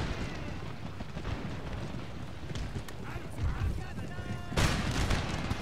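Massed musket volleys from troops in an Empire: Total War battle, a continuous crackle of distant gunfire with occasional louder bursts, including one near the end, running under someone speaking.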